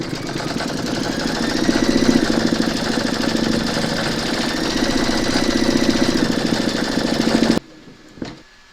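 An embroidery machine runs loud and close with a fast, steady rapid-fire stitching hum while it quilts a Christmas bottle tag in gold thread. It stops abruptly near the end, leaving only faint handling sounds.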